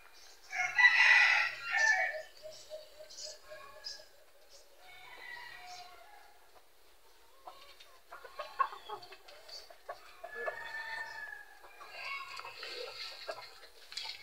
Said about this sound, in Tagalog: ito na yung ating manok na labuyo mga idol